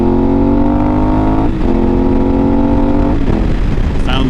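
A 2018 KTM 1090 Adventure R motorcycle with a LeoVince aftermarket exhaust revs loud and close, its steady engine note dipping and climbing again twice before a brief higher whine at the end.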